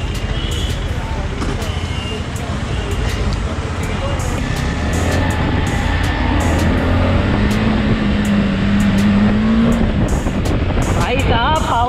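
A KTM 390 Adventure motorcycle engine drones loudly and steadily during a test ride, its pitch climbing and falling as the rider shifts gears, with rushing wind and a voice talking over it.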